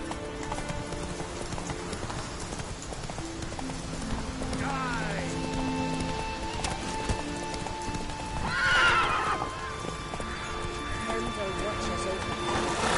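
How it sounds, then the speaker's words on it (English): Horse neighing and hooves clip-clopping in The Witcher 3 video game, a whinny rising clearly near the middle over steady hoof beats and game ambience, with a voice speaking. "Whoa there, Roach"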